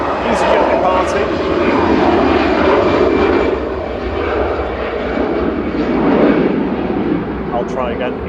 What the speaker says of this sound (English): EasyJet departing to Barcelona with flight 2001